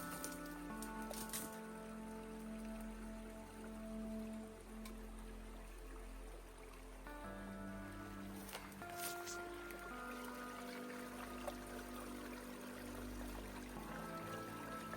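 A rain-fed stream runs through a ravine in a wet forest, giving a continuous, even trickle and rush of water throughout, moderately quiet, with no voices.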